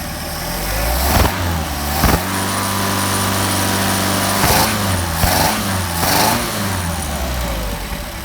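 A Mercedes 190SL engine fitted with Solex 44PHH carburetors starts and idles close by, with a steady rumble interrupted by several sharp throttle blips.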